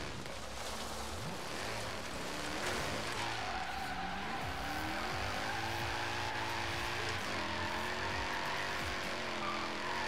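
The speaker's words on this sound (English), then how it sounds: "Screw it, we're drifting on dirt." A BMW E46 with an LSX V8 drifts on dirt in Forza Horizon 3, its engine revving up and down in long swooping pulls under a steady wash of gravel spray and tire noise, loud and close.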